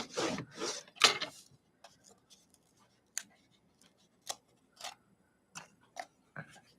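Scissors or a trimmer cut paper for a textured journal cover: a few rough rasping cuts at the start, then sparse short snips and clicks, close and quiet, with no talking.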